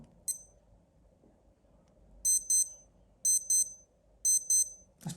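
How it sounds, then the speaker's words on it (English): A chrome Casio digital watch alarm sounds in close, clear double-beep pairs repeated three times at a steady rhythm after a single short chirp, high and thin over a quiet room. "That's probably the better sounding alarm out of all of them so far"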